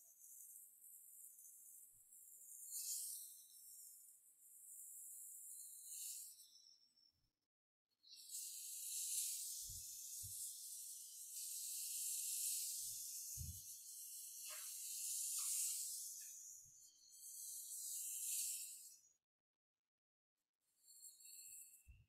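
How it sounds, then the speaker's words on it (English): Scallops sear in a hot pan with a steady, bright sizzle that swells and fades in long waves, a few soft knocks of the pan underneath, close by and with no talking. "now I have my pan and I start to pan sear the scallops"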